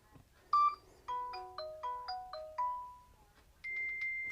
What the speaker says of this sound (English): You got your different ringtones here.